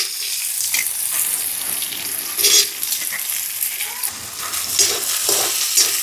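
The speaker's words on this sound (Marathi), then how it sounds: "आणि आता टाकायचा कांदा." Onion frying in a pan with green chillies for a dry green soybean dish, a close, bright sizzle that swells and fades as it is stirred, with no talk.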